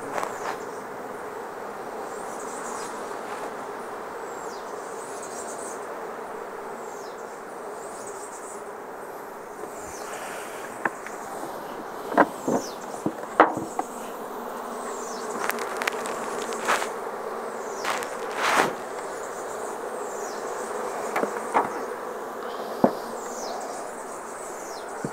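Honeybees swarm around an open hive box at a Caribbean apiary, a continuous close buzzing drone with individual bees zipping past the microphone and a few sharp ticks and knocks.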